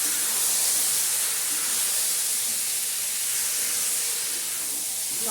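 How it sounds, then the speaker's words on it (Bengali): Meat being fried for kosha in a pan with onions gives a steady, dense, hissing sizzle that holds constant and close throughout, with no voices. "মাংসটা কষাচ্ছি"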